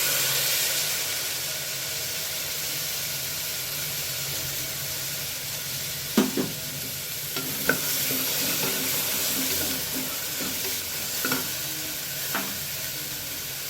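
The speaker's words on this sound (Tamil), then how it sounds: "வெங்காயம் நல்லா வதங்கிடுச்சு. நம்ம எடுத்து வச்சுருக்க வெஜிடபிளை சேர்த்துக்கலாம்." Vegetables stirred into sautéed onions in a frying pan give a steady, close sizzle with a few soft stirring scrapes and clacks, and no talking.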